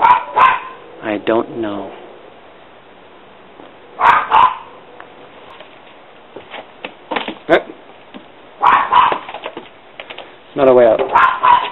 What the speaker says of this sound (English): there are bird dogs that live in this house